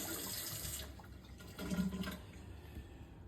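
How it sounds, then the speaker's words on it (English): Cold tap water runs over the small cleaning disc of a Breville BES870 Barista Express espresso machine, a quiet steady trickle that swells into a louder splash midway before easing off. "just get some cold water, run the little cleaning disc underneath the water too"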